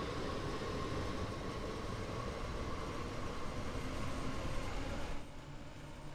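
A passenger train in Train Sim World 3 rumbles as it pulls away, a steady broadband rolling roar with a faint hum that holds level and then drops abruptly near the end.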